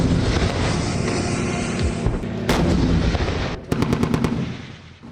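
Heavy gunfire and artillery roar during an attack on a Russian military base near Kursk, a dense, loud barrage of booms and rapid machine-gun bursts, ending in a sharp string of close shots.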